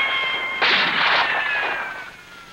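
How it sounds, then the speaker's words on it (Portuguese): Gunfire in a western TV episode: a sharp burst of shots with a ringing tail, heard over a steady high-pitched tone, then fading away. "Ah, tem dois atirando agora."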